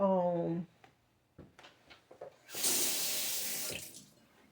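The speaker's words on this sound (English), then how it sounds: "Do you guys wash your hands like after you mush?" Tap water runs into a kitchen sink as hands are washed, a loud, close hiss lasting about two seconds after a voice speaks and a few soft clicks and bumps.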